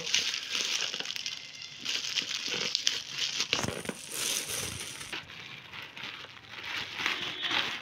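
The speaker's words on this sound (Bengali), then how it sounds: "এই প্যাকেটটা খুলছি।" A large plastic packet of moa sweets made with nolen gur is opened by hand, giving continuous close crinkling and crackling with a few sharper rustles as the wrapper is pulled and torn.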